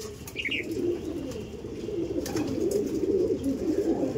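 Owl-faced Madras pigeons, black birds, cooing with soft calls over a steady low murmur, fairly close and continuous.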